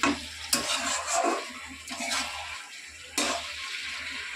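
Shukto, a Bengali mixed-vegetable dish, cooking in a pot with intermittent scraping stirs over a steady low simmering hiss, several distinct stirring strokes close by and fairly quiet.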